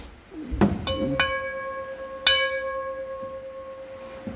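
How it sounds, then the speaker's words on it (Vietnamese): Thick, heavy antique Japanese Imari porcelain plate, 30.5 cm across, tapped a few times, each strike giving a clear bell-like ring that sustains and slowly fades, close and distinct. "Tiếng gõ nó âm vang như chuông,"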